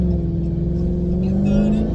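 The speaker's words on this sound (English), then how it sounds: "There's a truck coming." A truck approaching along a road near a parked vehicle, its engine a steady low rumble with a slowly rising tone over two seconds, close and fairly loud, with no talk over it.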